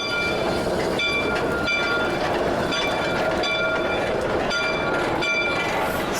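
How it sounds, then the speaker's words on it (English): A Shay geared steam locomotive, number 8, pulls into Ralph at the end of a climb, with steady rolling rail noise and a continuous mechanical rumble throughout, plus faint whistle-like tones. "The climb is over for the number 8 as the train arrives into Ralph."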